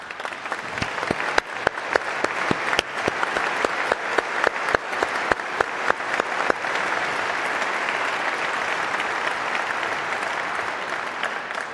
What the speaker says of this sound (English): ask you to join me in a round of applause in recognizing these